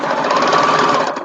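A serger sewing machine stitches fleece in a single fast, buzzing burst that runs steadily for about a second before stopping.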